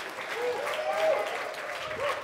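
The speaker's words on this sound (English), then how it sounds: "Give them a round of applause." An audience at a business summit applauds, a steady dense patter of clapping throughout, with a voice speaking over it in the foreground.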